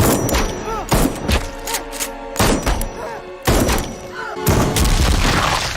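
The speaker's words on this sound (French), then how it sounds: "Attrape l'arme et descend son pote." A series of heavy, booming thuds and sharp impacts in a horror film scene where a man grabs a gun and shoots his friend, coming in loud bursts about a second apart with faint voices around them.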